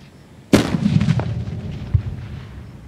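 A homemade calcium carbide cannon fires a single sharp, loud blast outdoors, followed by a decaying echo and a faint second thump.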